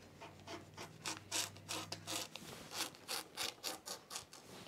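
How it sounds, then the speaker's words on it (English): Scissors cut fabric off a sewing pattern piece, a series of crisp, rhythmic snips close by, each stroke a short rasping burst, with a faint low hum beneath the first half. "I'm going to cut this piece of fabric off right here"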